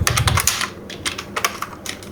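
Fast, close clicking of keys on a computer keyboard, bursts of rapid taps with short pauses as text is entered into a text box, no voice.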